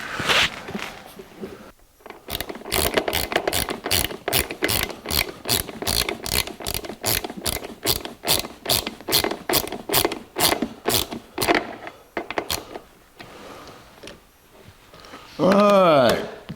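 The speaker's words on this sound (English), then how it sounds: "Now we can put the rest of the screws in." Screws are driven into the heater box of a 1982 Jeep CJ7 with a ratcheting tool, making a long run of rapid close clicks in steady bursts, ending with a brief whirring sound.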